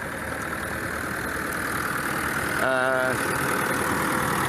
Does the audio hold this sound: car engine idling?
yes